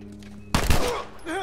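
A gunshot bursts out loud and sudden in The Last of Us, a sharp blast with a brief ringing tail, followed by a short vocal sound from the game or player.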